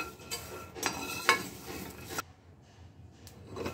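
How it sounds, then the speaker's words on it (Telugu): Curry leaves crackle and sizzle in hot oil while a utensil clatters and stirs in the pan, then the sound drops to a softer hiss. "ఇప్పుడు నేను కరివేపాకు యాడ్ చేసుకుని అది కూడా వేయించుకుంటున్నా"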